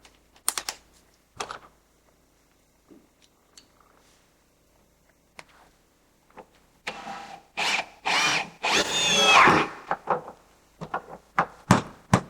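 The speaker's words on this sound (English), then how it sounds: "Takes the drill bit out, put the screw in immediately, cinch down that corner." A power drill whirs in short bursts, then a longer sustained spin as a screw drives into the corner of a wooden electric fireplace enclosure, with clicks and knocks of handling between.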